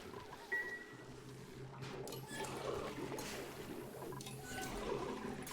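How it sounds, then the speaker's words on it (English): Polluted water empties from a bottle emptier in Oxygen Not Included as a soft, faint splashing trickle that runs steadily under low background game ambience. "I'm going to start mopping up polluted water and running it through this bottle emptier"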